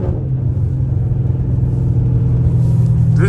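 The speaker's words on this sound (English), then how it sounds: "Hold on, for the downshift." A Dodge Charger SRT with a cat-delete exhaust rumbles loudly and steadily up close, a deep continuous engine drone as it downshifts, with no clear rev spike.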